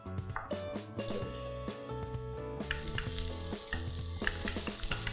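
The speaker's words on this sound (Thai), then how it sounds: "เราก็จะมาคั่วพริกเกลือค่ะตั้งกระทะนะคะแล้วก็ใส่น้ำมันลงไปค่ะเล็กน้อยนะคะ" Oil sizzles steadily in a wok while garlic, red chili and coriander root are stirred and tossed for salt-and-pepper chicken wings, with clattering utensil scrapes and a hiss that grows louder partway through.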